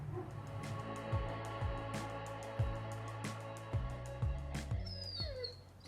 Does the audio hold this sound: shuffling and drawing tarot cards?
no